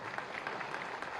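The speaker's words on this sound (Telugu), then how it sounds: "క్లాప్స్ ఇంకా గట్టిగా కొట్టాలి" An audience claps at a stage event, a dense, even patter of many hands heard briefly at a moderate distance.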